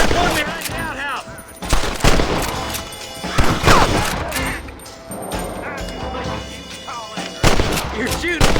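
Repeated gunshots and volleys of gunfire in the Western video game Red Dead Redemption, loud and close, with bursts spread across the clip and voices speaking between the shots.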